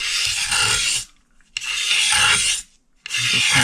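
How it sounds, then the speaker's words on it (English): A wooden guitar neck is being finish-sanded by hand in three long rasping strokes, each about a second long with short quiet gaps between them, close and without talk. "Then I'll do some finish sanding on this to smooth it all up."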